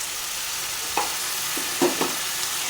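A curry sizzles softly as it is sautéed with kasuri methi in a pan, with a few brief stirring scrapes and clinks over a steady, faint frying hiss.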